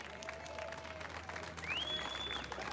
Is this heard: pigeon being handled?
no